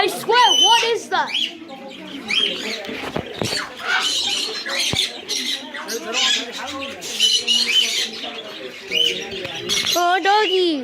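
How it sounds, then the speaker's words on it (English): Large pink birds give repeated squawking, honking calls, several overlapping and fairly close, with people talking over and between them. "There's some pink birds up there."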